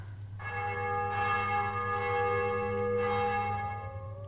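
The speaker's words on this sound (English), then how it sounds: "Oh, church bells." Church bells ring inside a dark woodland horror video game, a sustained chime with rich overtones that rises, swells in the middle and fades near the end, heard alone and fairly close over a low steady hum.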